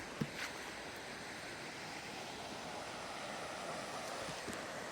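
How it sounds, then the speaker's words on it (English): Faint ocean waves wash continuously onto a beach, a soft, even, distant-sounding roar with no voices over it. "Anyway, here at the beach."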